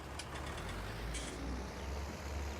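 A tractor engine in Farming Simulator 19 rumbles steadily at close range, a heavy low drone with a brief hissing burst partway through.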